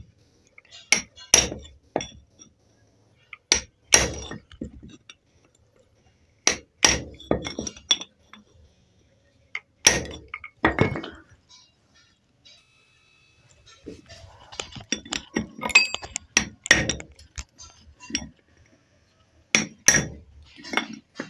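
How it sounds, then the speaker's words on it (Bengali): A hammer drives a narrow chisel against the metal body of a router machine to chip the bearing seat tighter, producing sharp clinking strikes in repeated rapid clusters separated by short silences. "একটা চিপিং এরকম ছানি নেবেন সরু সাইজের, দিয়ে যে বডি আছে এটাকে একটু চিপিং করে দেবেন"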